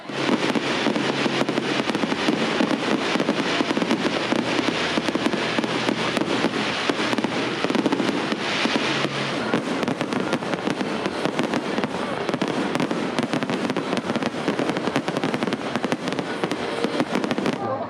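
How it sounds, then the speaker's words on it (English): Fireworks show at Six Flags Great Adventure during Fright Fest, a dense, continuous barrage of loud booms and crackling bursts that fills the whole stretch without pause. "Best fireworks I've ever seen, including New Year's Eve."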